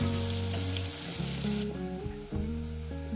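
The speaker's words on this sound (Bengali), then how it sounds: "এটাকে আমি সুন্দর করে প্রায় 30 মিনিট ভেজে নেবো পেঁয়াজটাকে" Onions frying in a pan for a chicken curry, a bright sizzle under melodic background music, fading noticeably about halfway through.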